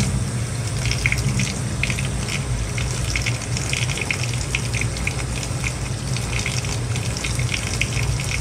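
Warm water runs steadily into a small container in a barn setting before milking, a continuous close gushing pour with no talking.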